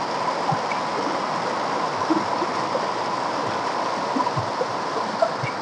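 The Bhurchung Khola stream and waterfall near Pokhara rush in a constant, close, full hiss of falling and flowing water, steady throughout with no voices.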